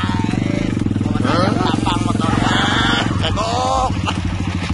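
A Kawasaki KLX 150 dirt bike engine drones steadily and close on a ride toward a volleyball court, with a person talking over the running motor throughout.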